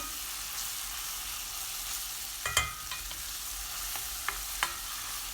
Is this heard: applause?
no